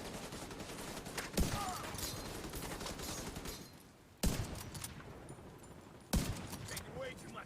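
Bursts of gunfire in The Division 2 during a firefight, with heavy sustained shooting broken by sharp loud cracks, and voices talking over the action.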